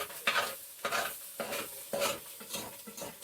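Macaroni noodles with egg being stirred and scraped across the bottom of a pan in repeated strokes, about six scrapes with soft sizzling between them, close and fairly quiet, no voices.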